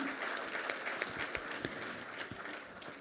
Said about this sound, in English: Can we have a louder applause once again for the gentleman?